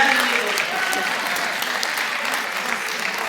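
A live audience at a comedy poetry recital by a Hindi humorous poet breaks into loud, full applause. The clapping is dense and sustained for the whole stretch, with faint crowd murmur beneath it.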